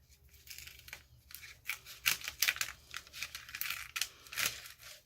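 Small scissors snip repeatedly through a thin strip of card stock, a series of crisp close cuts in uneven rhythm against a quiet background.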